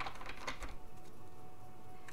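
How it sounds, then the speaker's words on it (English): Oracle cards from a Journey of Love deck are shuffled by hand, producing a quick burst of soft, dense clicking and riffling that fades into near silence, faint and close. "I just shuffled, and I'm continuing to shuffle"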